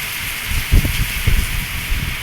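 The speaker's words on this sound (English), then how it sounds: "It has suddenly started raining." Rain falls at an outdoor swimming pool, making a steady, soft broadband hiss with a few faint low thumps and no talking.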